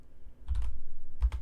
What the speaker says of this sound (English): Sorry for my typing, I'm so sorry.